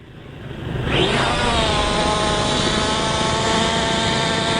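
A CX43 drone's propellers spin up for an automatic takeoff: a loud, close buzzing whine climbs quickly within the first second, then holds a steady, strong drone with no voices.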